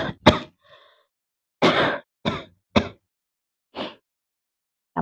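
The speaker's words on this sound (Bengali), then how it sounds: "চাপা দিয়ে কাশতে হবে," A person coughs while covering the mouth, producing several short, muffled coughs and throat-clearing bursts in an irregular rhythm, close and moderately loud, with silent gaps between them.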